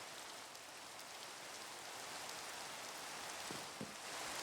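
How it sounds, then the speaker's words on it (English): Steady rain falls in a modded Minecraft world, a soft, even patter and hiss that continues without a break. "Can I sleep? I'm not digging the rain."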